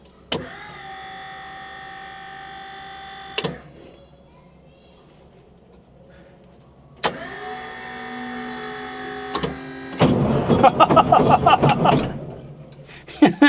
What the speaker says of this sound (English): I'm just going to run the gearbox pump for a bit to get a bit of pressure up.